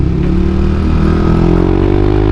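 A Yamaha Aerox 155 VVA scooter being ridden through a corner, its engine droning loud and close with a steadily rising pitch, plus wind and road noise throughout.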